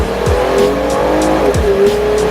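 A Ford Mustang launches hard, its engine note rising loud and close as the rear tires squeal and skid in a sustained, pitch-shifting screech.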